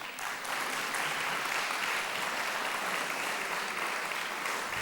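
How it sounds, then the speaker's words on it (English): An audience at the Athens Democracy Forum applauds to welcome a panel moderator, a dense, even burst of clapping that is fairly loud and fills the entire stretch with no talk. "please, a hand of applause for Serge"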